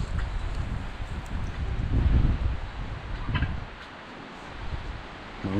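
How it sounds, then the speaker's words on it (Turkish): Wind gusts across the grounds of a village house, a steady rough rush that swells and eases, with faint rustling and a brief bird call in the background. "Vallahi bizi rüzgar sersem etti"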